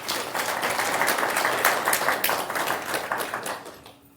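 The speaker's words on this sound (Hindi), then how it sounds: "ताली बजाओ थोड़ा सा अच्छी तरह।" An audience claps at a spiritual talk in Mahagama, Jharkhand, a dense burst of applause from many hands that holds steady for about three seconds and then thins out and fades.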